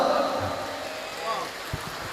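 Rain pours on an outdoor religious gathering as a steady, dense hiss, with a few faint thumps and murmuring voices beneath it.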